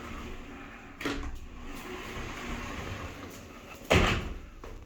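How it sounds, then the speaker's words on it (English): A fancy sliding bathroom door in a Moonrise hotel room in St. Louis, Missouri, heard as two separate bumping, rolling bursts about three seconds apart over a quiet room. "Got this fancy sliding door."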